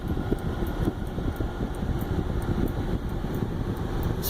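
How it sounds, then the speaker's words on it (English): Strong Santa Ana wind blowing through a yard, a steady, loud rushing roar with low buffeting on the microphone and faint, regular ticking above it. "This wind has been crazy."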